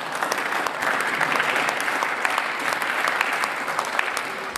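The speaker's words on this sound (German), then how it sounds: "Applaus" Sustained applause fills the Austrian parliament chamber during a budget debate, many hands clapping steadily at a moderate distance for several seconds without speech.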